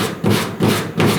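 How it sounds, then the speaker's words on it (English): Hand sanding primer off the rear panel of a 1969 Chevrolet C10 truck, three rhythmic back-and-forth scraping strokes, close and loud, without speech. "I believe I can go ahead and sand this off"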